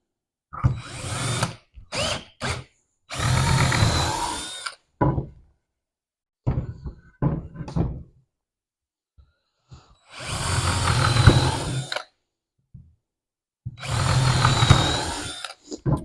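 A power drill whirs in several short bursts separated by pauses, close and loud, with a few knocks and clunks between runs.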